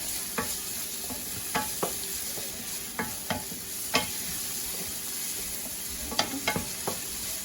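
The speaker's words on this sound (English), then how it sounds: "Put the garlic in the pan here." Crushed garlic sizzling in a pan, stirred with a wooden spoon: a steady, moderate sizzle with a series of light scraping knocks at irregular intervals, close and with no voices.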